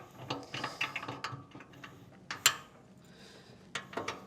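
A red New Pig latching drum lid is fitted onto a drum and locked down with a cotter pin, giving a few sharp metallic clicks and clanks spread across the moment, with one louder snap standing out midway.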